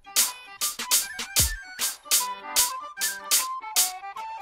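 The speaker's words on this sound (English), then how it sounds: "use 2 hats to make it sound even more powerful" Programmed hi-hats layered from two identical samples panned left and right in an FL Studio trap-style beat, ticking in fast, bright repeated hits over a melodic synth pattern, no voices.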